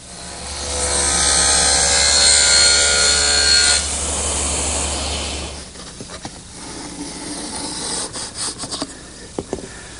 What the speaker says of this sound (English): Now I want to make a groove in the breadboard edge at the table saw.